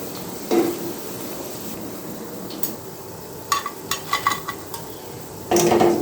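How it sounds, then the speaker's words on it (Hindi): Pan of chicken and vegetable pakoras cooking over a slow flame, with a low steady background noise broken by a few brief clinks and scraping stirs near the middle and end; nobody speaks. "बस इसी तरह से ये सारे पकौड़े मैं फ्राई करती जा रही हूँ।"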